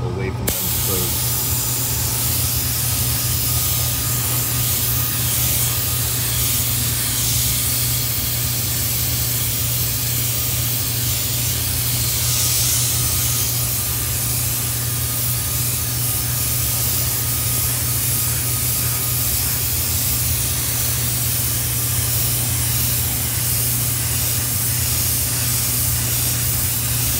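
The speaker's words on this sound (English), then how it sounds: "you're going to give it one more coat of clear after that" A spray gun lays clear coat onto a car wheel in a long, continuous, loud hiss with a steady compressor hum beneath, while a person talks throughout.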